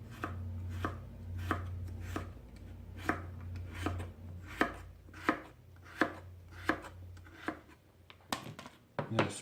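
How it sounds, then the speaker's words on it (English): A single potato is chopped with a knife on a board while preparing dauphinois potatoes, about a dozen crisp, evenly spaced knife strikes at close range over a low steady kitchen hum, with no talking. "let's chop up this one potato"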